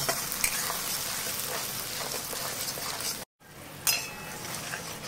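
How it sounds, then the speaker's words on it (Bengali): Homemade spice paste for pabda fish curry sizzles steadily in a pan while being stirred, a continuous close frying hiss with one brief break before it resumes. "এই মশলাটা দিয়ে আমি 2 থেকে 3 মিনিট আমি ভালো করে কষে নিলাম।"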